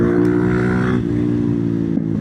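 A GEON GNX 300 motorcycle rides by close, its engine holding a loud, steady drone with a brief shift in pitch partway through and no voices.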